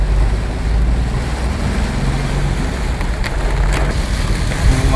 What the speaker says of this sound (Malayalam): ശക്തമായ മഴയാണ്.